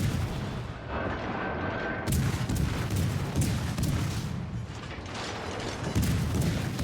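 Destroyer guns fire armor-piercing salvos in World of Warships Legends, a steady run of sharp, loud mechanical reports and booms repeating every couple of seconds throughout.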